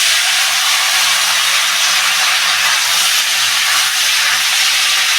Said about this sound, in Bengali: তরকারিটা ঢেলে দেবো